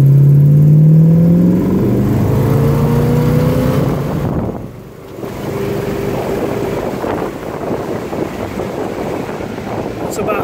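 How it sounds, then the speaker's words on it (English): A 1969 Dodge Coronet R/T with the L-code engine accelerates hard with its fresh-air carburetor intake open, the loud rising engine note climbing steadily, then easing off as road and wind noise carry on. "we could open up the fresh air for the carb, maybe do one more little hit"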